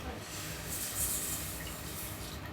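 Water poured into a wok of tomato soup base for Chinese hot and spicy soup, a brief steady splashing rush at close range.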